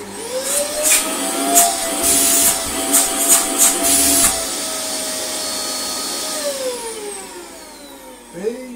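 A refurbished Dyson DC24 upright vacuum cleaner runs on a rug with a steady high motor whine, punctuated by bursts of hissing suction and rattling debris, before the motor winds down near the end.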